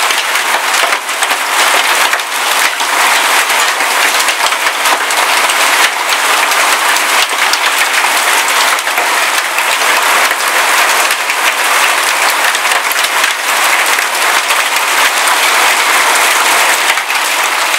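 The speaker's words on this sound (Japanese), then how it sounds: "これ全部ひょうが降ってるよ。" Large hailstones pelting down in Sydney, Australia, a dense, loud, continuous clatter of ice hitting surfaces for the whole stretch, with no talking.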